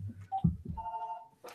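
A telephone rings with a clear electronic two-tone ring that sounds once briefly and then holds a longer steady tone, close and fairly loud, after a few soft bumps and a short rustle.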